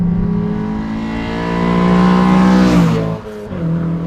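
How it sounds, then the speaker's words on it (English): The naturally aspirated engine of a 2015 Honda Civic Si with bolt-on modifications revs loudly and smoothly, its pitch climbing then dropping sharply, with a brief dip before it settles again; close and continuous. "Naturally aspirated engine, very rev happy."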